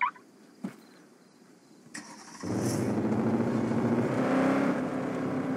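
A BMW M Sport car's engine starts with a few clicks and a crank, then settles into a loud, close, steady running roar that builds slightly before easing.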